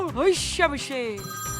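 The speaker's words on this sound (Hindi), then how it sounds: "पापा का फिर फोन आ रहा है।" A telephone rings in a home during a Pakistani sitcom scene, its bell tone sounding over lively talk from several voices.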